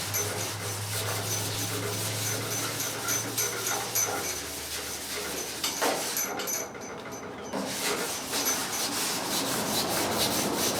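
Wet sanding on the bed of a 1985 Chevy K10 pickup on a cool, breezy day, a continuous rough rubbing scrape, moderately loud and close, with a low hum underneath for the first few seconds.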